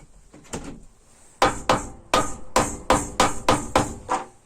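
Hacksaw blades are hammered into glued holes in a homemade metalworking tool, giving about a dozen sharp, close hammer blows, scattered at first and then falling in a steady rhythm.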